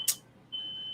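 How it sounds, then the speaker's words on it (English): A sensor alarm gives a sharp click and then a thin, steady high-pitched electronic tone that holds for about half a second, faint and alone in a quiet room. "That stupid alarm thing making noise."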